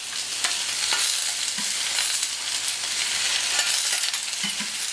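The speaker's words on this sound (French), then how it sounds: "Les petites pommes de terre rissolées cuisent bien" Small potatoes and cep mushrooms sauté on a hot plancha, giving a steady, dense sizzle with crackling spits and a few soft scraping clicks throughout, close and loud with no talking.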